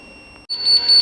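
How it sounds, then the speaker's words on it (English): A high, shrill electronic buzzer on a Kentec fire alarm panel switches on abruptly halfway through and sounds steadily, loud and close, after a brief quiet stretch. "I'll mute the buzzer."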